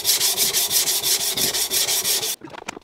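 A knife is drawn across a Naniwa Advance S1 220-grit sharpening stone in about a dozen quick, even, rasping strokes, close and loud, before the rubbing stops and only a few faint scrapes follow.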